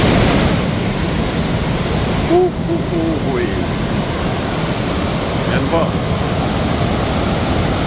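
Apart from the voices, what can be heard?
water rushing from Wawa Dam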